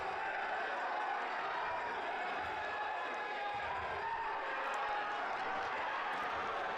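A college wrestling crowd at a Lander vs Life dual meet on its feet cheering, a dense, steady roar of many voices that holds at an even level throughout.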